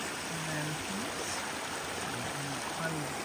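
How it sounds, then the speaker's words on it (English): A small mountain brook cascades over rocks on a forest trail, making a steady, even rushing wash throughout, with no voices. "this lovely little cascade is just, I don't know, 150 feet up stream"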